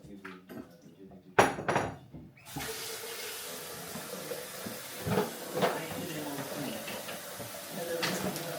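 Vegetables being rinsed under a running kitchen tap while preparing African traditional food, a steady stream of water with clinks of dishes and handling noises, fairly close, with brief talk near the start.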